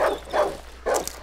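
A wolf in the horror game Darkwood gives three gruff barks at close range, spaced evenly over a second, with nothing else under them.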